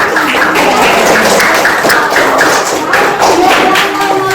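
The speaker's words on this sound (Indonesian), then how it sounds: "Boleh kita tepuk tangan ya" A classroom group of students applauds for a finished group presentation, steady dense clapping filling the space with faint voices underneath.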